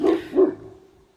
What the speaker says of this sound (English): the dogs don't even know what they're barking at